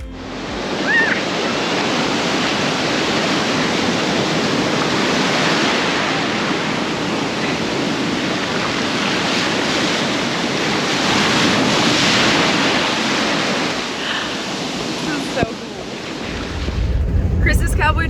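Ocean waves break steadily on North Topsail Beach, a loud continuous roar of surf with wind buffeting the microphone throughout and a brief thump near the end.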